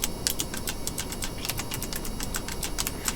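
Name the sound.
typing on a computer keyboard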